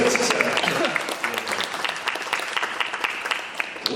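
An audience at a legislative training lecture on democracy and elections claps in a dense burst of applause, which starts full and then thins gradually toward the end.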